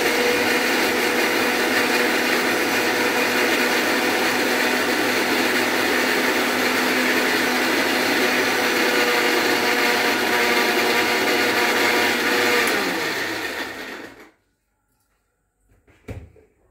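A mixer grinder blending thandai ingredients into a paste, a loud, steady motor whine running for about fourteen seconds before winding down and stopping, followed by silence and a brief clunk of the jar.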